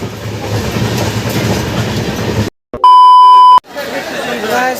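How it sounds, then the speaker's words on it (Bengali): A train rumbles and clatters steadily along the rails, then the noise cuts out as it stops and a loud, sustained electronic beep sounds before station bustle returns. "এই যে ট্রেন থামলো"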